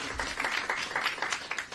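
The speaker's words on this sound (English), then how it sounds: "Please give her a round of applause as she makes her way to the podium" Audience applause greeting a school superintendent as she walks to the podium at a school district announcement, a dense, steady burst of many hands clapping for nearly two seconds.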